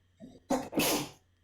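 A single loud, close sneeze with a brief intake before it, then a sharp burst and a trailing release, alone in a quiet room.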